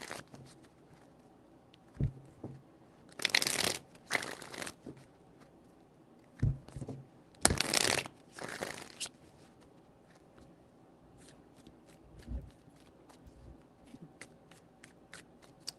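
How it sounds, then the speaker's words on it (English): Tarot cards are shuffled in several short riffling bursts separated by quiet pauses, with occasional soft taps and handling noises, close to the microphone. "Three shuffles."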